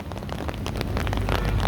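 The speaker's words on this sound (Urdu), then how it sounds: "بارش تیز ہو گئی ہے نا" Heavy rain pours outdoors onto a wet road with standing water, a dense, steady patter of drops that grows slightly louder, close and continuous with no voices.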